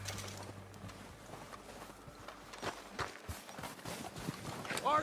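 Horse hooves clip-clop in the Red Dead Redemption 2 game as riders arrive, a steady run of mid-level hoofbeats over an outdoor ambience that builds louder toward the end.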